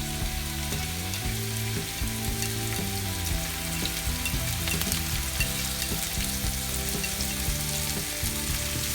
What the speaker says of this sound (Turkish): Sarımsakları birazcık kavurduktan sonra içerisine mantarlarımızı ekliyoruz